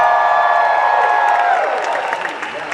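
A convention crowd cheering and whooping together for Mark Hamill, a loud sustained roar from the audience that gradually fades toward the end.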